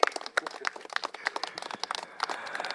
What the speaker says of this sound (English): why don't we give another round of applause for Auntie Emily?